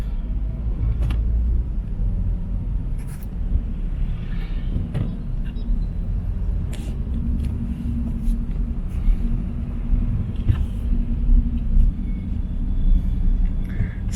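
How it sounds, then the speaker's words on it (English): Road traffic rumbles through busy Liloan, Cebu, in the Philippines, with a steady low drone of passing vehicles and a few brief clatters and knocks rising out of the noise. "So it's a bit traffic around here."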